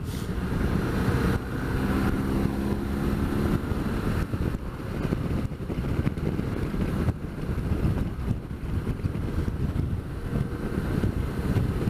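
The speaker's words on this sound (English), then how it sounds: "But the wind's still blowing again." Strong wind buffets the microphone outdoors during a motorcycle ride, making a constant loud roaring rumble with no pauses.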